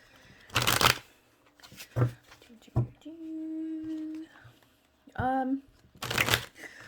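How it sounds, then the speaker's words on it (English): Quick bursts of tarot cards being riffled and shuffled, several separate flurries, with a brief tonal hum and a short voiced sound between them. "Let me go ahead and shuffle for you guys."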